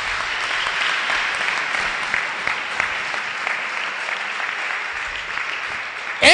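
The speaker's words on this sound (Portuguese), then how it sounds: "Palmas para Jesus." Sustained applause from a church congregation, steady and fairly loud throughout, with no talking over it.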